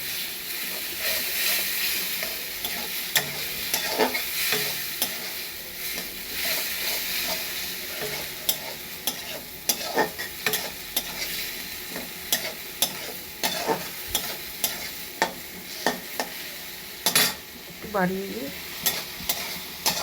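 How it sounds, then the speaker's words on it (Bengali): Vegetarian ghugni being stirred and sautéed in a pan, a continuous sizzle with repeated scraping strokes of a spatula throughout, close up, with someone speaking briefly. "এবার এটা দিয়ে আমি খুব ভালো করে কষতে থাকবো, কষবো এটা দিয়ে ভালো করে।"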